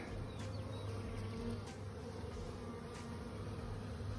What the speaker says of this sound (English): Oh, we have a little bee emerging.